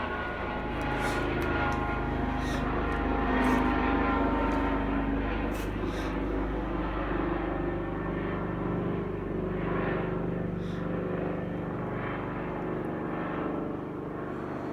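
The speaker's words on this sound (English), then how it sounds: "We'll let the helicopter get over" A steady, loud helicopter drone fills the whole stretch without letup, a constant low roar overhead with faint ticking beneath.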